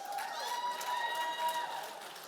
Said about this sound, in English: she deserves a large round of applause